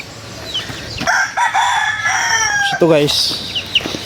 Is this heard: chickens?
yes